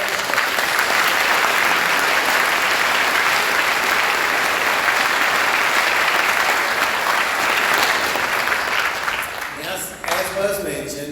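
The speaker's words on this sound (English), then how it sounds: "I want you all to give a big round of applause for Paul Burns." A large audience at the Tennessee Boys State gathering gives Paul Burns a sustained round of applause. Dense, steady clapping fills the hall, then thins and tapers near the end as a voice begins.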